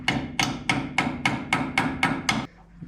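Eight evenly spaced hammer strikes ring out close and loud on metal while the steering on a 1951 Chevrolet is repaired, followed by a brief quiet tail.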